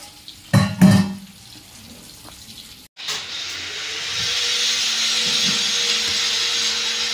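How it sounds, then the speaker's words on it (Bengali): Fish frying in a pan in a home kitchen, a steady broadband sizzle that settles in after a brief gap and holds fairly loud and close, preceded by a few short clattering knocks. "আরেকটা মাছ ভাজা হচ্ছে"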